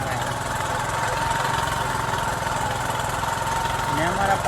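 A tractor engine chugs steadily as it drives ahead on a farm track, a low rhythmic mid-range rumble that holds at constant level throughout.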